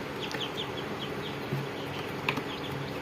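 Ten young chicks peeping in a small group, a scatter of high, thin chirps repeating close by over soft background noise, with a brief low knock partway through.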